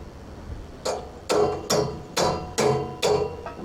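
Six sharp metallic hammer strikes on a Kubota L4850DT tractor part ring out one after another at a steady, slightly uneven pace, close by with no talking.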